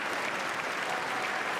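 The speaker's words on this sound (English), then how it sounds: "why are they clapping?" Applause from the audience at the State of the Union: a continuous, even wash of many hands clapping together, moderately loud and heard from a distance through a broadcast, with no voices over it.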